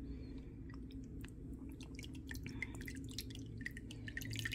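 Water drains and trickles from a straining bowl while live blackworms are rinsed, scattered drips and wet splashes over a low background hum, faint and close.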